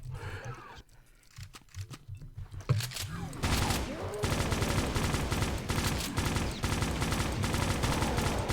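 Doom 2 gunfire, with rapid, dense bursts of shooting that grow loud and continuous in the second half, while someone speaks over the first part.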